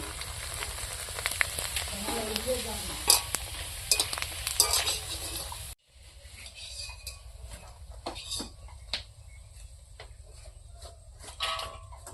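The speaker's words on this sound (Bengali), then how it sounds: "কড়াইতে বসে দেই চিজটা ভাজি নেই" Cheese frying in a wok on a clay stove gives a steady close sizzle with occasional utensil clinks and stirring scrapes, which quiets partway through.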